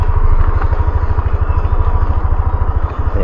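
A motorcycle engine idles and chugs close by in a steady, rapid throb while the bike is eased slowly down a slippery, leaf-covered path, with no talking.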